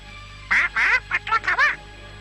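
A cartoon parrot squawks in a rapid series of about six harsh, nasal, quack-like calls, loud and close, in two quick clusters with brief gaps and no talking.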